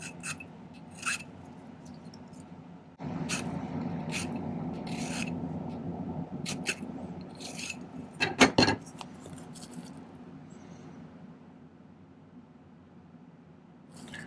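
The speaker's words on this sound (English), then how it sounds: "I may need to do a little bit of creative filing on the inside here." A silver pendant setting for a turquoise stone is filed by hand. Quiet, close rasping scrapes come in short strokes over a low background hum, with a brief louder clink midway.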